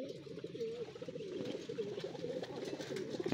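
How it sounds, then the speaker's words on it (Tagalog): Racing pigeons coo continuously inside a training box on a hillside, a low, soft, overlapping murmur of burbling calls that stays close and moderately quiet throughout. "Bali 2 training box yung dala nating mga ibon mga kalapatid"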